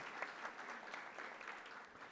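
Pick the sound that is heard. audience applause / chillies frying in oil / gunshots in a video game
audience applause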